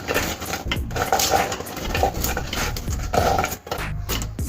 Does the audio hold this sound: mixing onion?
yes